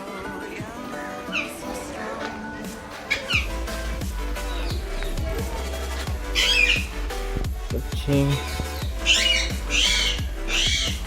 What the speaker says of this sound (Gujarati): પહાડી પોપટ છે.